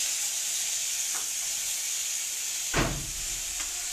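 Paneer pieces frying in hot oil, giving a steady, close sizzling hiss throughout, with one brief clatter of a utensil against the pan near the end.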